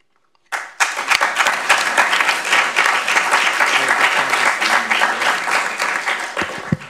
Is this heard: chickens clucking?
no